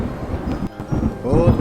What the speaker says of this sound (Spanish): Otro relámpago estruendoso nos sacudió